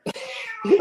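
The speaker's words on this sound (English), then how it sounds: "That's my cat." A loud, close cat meow, brief and insistent, with a short sharp onset and a rising, strained ending.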